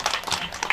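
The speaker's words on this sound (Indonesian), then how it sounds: "Terima kasih atas tepuk tangannya." Brief scattered clapping from an audience at a traditional village ritual gathering, a short spatter of hand claps, soft and somewhat uneven.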